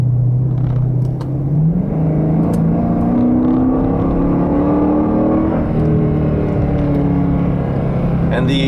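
A Dodge Challenger R/T V8 engine revs and rumbles through its exhaust, pitch climbing steadily as the car accelerates, loud and close, with a brief lift partway through.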